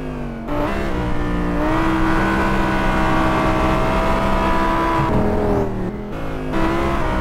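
Lamborghini Huracan race car flat out on a track, its engine howling loudly and steadily with sustained high-pitched harmonics, a brief dip in pitch near the end as it shifts or lifts before surging again.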